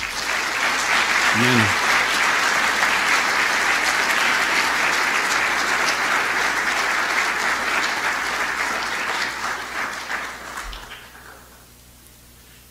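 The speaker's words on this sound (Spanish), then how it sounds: "Dale otro aplauso." Loud, sustained applause from a church congregation fills the hall for about ten seconds, then tapers off sharply near the end, with a brief voice heard early on.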